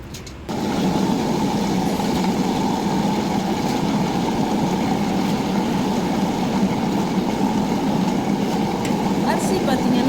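A wet grinder churns soaked ration-shop rice into idli batter after the urad dal, a dense continuous rumbling whir that starts abruptly and holds steady and loud, with no talking.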